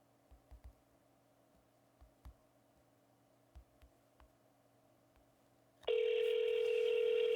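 A phone line connects: faint scattered clicks and ticks over a quiet hum, then a loud, steady dial tone cuts in and holds for the final second and a half.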